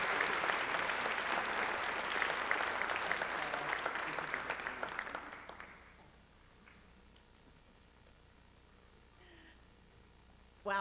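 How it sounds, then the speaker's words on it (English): Sustained audience applause at an education awards celebration, loud and dense for about five seconds before fading out into near silence. "Can we please give a very round of applause to Ms."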